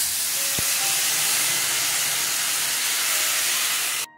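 Ginger-chilli paste hitting hot oil in a pan of tempered bay leaf, fennel and cumin seeds, giving a steady, loud broadband sizzle and hiss that holds evenly for about four seconds before cutting off.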